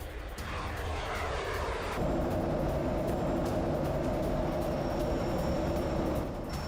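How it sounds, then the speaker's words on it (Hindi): Danish F-35 fighter jets flying on patrol over eastern Greenland make a steady, loud roar that holds throughout, with a rougher, denser engine drone taking over partway through. "डेनमार्क के F-35 फाइटर जेट्स उड़ान भर रहे हैं"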